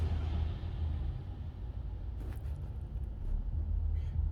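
A 2021 Volkswagen Caddy van on a test drive gives a steady low engine rumble and road drone from inside the cabin, with a faint rise as it accelerates and no talk.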